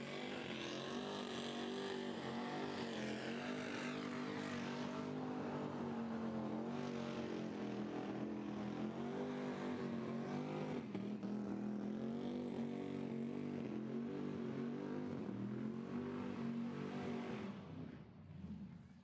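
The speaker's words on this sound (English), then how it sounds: "Not a bad burnout, but it's going off with the tyres up" A car doing a tyre burnout at the Burnanza burnout competition, its engine held at a loud, sustained high rev with slight pitch wavers for most of the run before easing off at the end, no voices over it.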